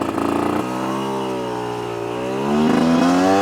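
A fairly new, tight Chinese dirt bike engine drones loudly up close, dipping after a gear change and then climbing in pitch as the rider accelerates uphill.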